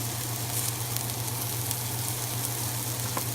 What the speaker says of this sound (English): We're here cooking the mushrooms, and then we're going to add a little salt to give it more flavor around the mushrooms with oil.